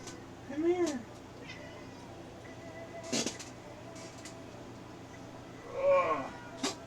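A cat meows twice, a fairly loud drawn-out call and then another about five seconds later, with a soft thump in between against a quiet indoor background.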